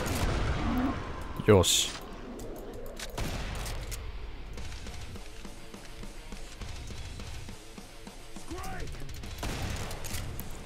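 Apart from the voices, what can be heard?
shotgun fire in video game Killing Floor 2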